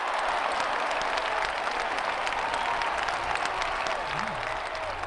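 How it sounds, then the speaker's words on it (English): Steady applause from a crowd runs the whole stretch at an even, dense level, with a faint voice briefly audible underneath, following a guest music performance on a supper-club show. "I think we need an applause track after that."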